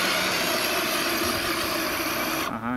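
A radio-controlled Toyota Land Cruiser 80 model from AliExpress, with a 35-turn motor, strains to climb a bump, giving a loud continuous electric whine and gear buzz that drops off abruptly at the end.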